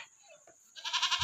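A lamb bleats close by in a short, quavering burst of rapid pulses after a few faint animal sounds.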